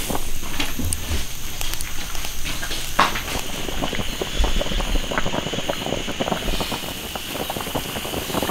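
Fish stuffed into pork tripe simmers in braising liquid in an iron pot over a fire, a soft continuous bubbling and rushing hiss with faint crackles, steady and close, no voices.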